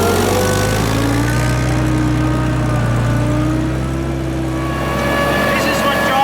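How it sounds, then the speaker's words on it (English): A Ferret armoured car being driven along a track, its engine droning loud and close with a deep steady rumble and shifting whine that eases briefly before building again. "This is what driving the ferret is all about."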